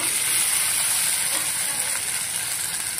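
Ginger-garlic paste, chopped tomato and coriander sizzle with onions in hot oil for kalegi peta fry, a steady close frying hiss that runs without a break.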